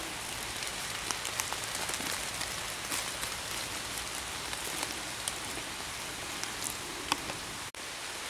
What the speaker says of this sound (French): En attendant, il pleut, il mouille,